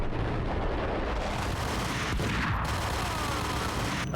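Gunfire from the video game Max Payne rolls on as a dense, continuous barrage of shots and booms, loud and close throughout with no pause.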